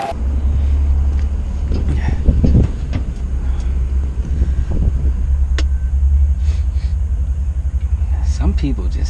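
A car engine idles steadily after a 3.8 GDI motor swap, a loud low rumble running the whole time with a few brief knocks and rustles on top.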